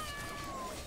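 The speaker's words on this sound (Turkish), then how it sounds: "Kedi" A cat meows once in a drawn-out, faint cry heard against a quiet room, the tone sliding slowly downward.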